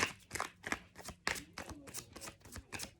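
Tarot cards shuffled and drawn by hand, giving a run of crisp papery slaps and riffles in an irregular rhythm, close and fairly loud, with no talking.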